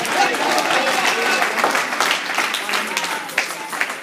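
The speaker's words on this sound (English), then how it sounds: "Somebody clap your hand and tell the Lord" Church congregation clapping hands during an apostle installation service, dense continuous applause filling the room, with voices speaking and calling out over it.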